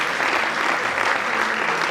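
A church congregation applauding at a worship service, a dense, loud, steady wash of clapping from many hands filling the room for a couple of seconds.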